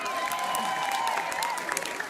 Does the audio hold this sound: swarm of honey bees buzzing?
no